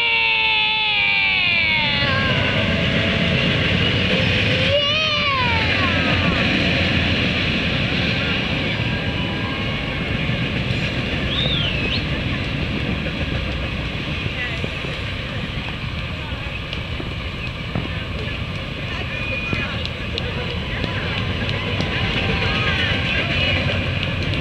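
A train rumbles past close by in a loud, continuous roar with rattling and a few horn-like tones early on, filling the whole stretch without a break.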